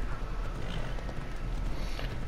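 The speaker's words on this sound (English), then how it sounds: "I feel like the horse isn't going as fast as I expect it to." A horse gallops in the video game Assassin's Creed Odyssey, a soft, steady clip-clop of hooves at a quick, even pace, faint and close with no talking.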